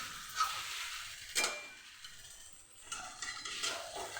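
Spices stir-fried in ghee with cumin and chilli in a pan, soft sizzling with a few scraping stir strokes in bursts, fairly quiet and close with no talk.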